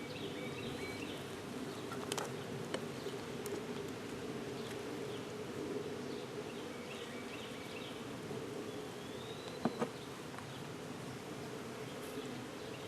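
Honey bees swarm around an open hive during an inspection, giving a continuous, even buzz with a few louder passes of single bees close by.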